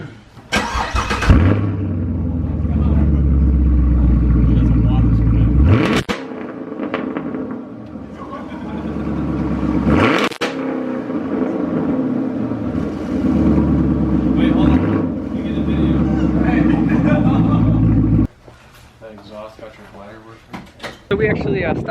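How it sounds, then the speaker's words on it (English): Chevrolet Camaro SS with an MBRP exhaust and no muffler, its V8 revved hard several times, each loud blip rising and falling over a rumbling idle, close to the exhaust, with a voice briefly talking. "And just for fun, we're gonna rev it with no muffler because why wouldn't we?"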